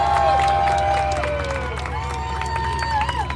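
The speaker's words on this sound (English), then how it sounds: "By applause, hoots and hollers." A crowd at an outdoor tank weekend event cheers and claps in a continuous, loud wash of voices, with a steady low engine hum running underneath and scattered whoops rising out of the noise.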